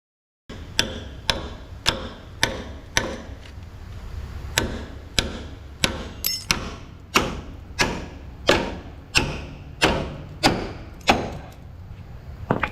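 Hammer blows driving a bracket off a pin on the frame of an ex U-Haul box truck, about fifteen sharp metallic strikes in a steady rhythm with a short pause midway, loud and close, no voices.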